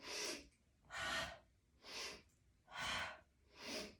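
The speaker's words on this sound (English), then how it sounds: "Exhale, inhale, exhale." Five deep, forceful breaths in a steady rhythm, each about half a second and close up, with brief quiet gaps between, alternating inhales and exhales during an abdominal workout.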